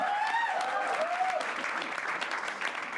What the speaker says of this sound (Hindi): बस एक बार जोरदार तालियां